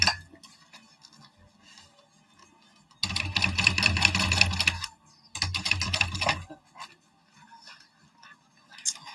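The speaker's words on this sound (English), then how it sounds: "I'm just top stitching all of this down." Sewing machine top stitching fabric in a home sewing setup, running in two loud bursts of rapid whirring stitches separated by a brief pause, with quieter rattles and clicks between.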